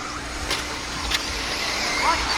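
Modified 4WD off-road buggy race cars run during an off-road championship race, their engines a steady distant roar with passing surges and faint crowd or announcer voices underneath.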